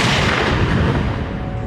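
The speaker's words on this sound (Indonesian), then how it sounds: "Ia terus memperhatikannya hingga pada akhirnya Tommy pun menembak mati pria" A gunshot from the Peaky Blinders TV series, a loud, dense boom with a rumbling tail filling the short moment, close and alone.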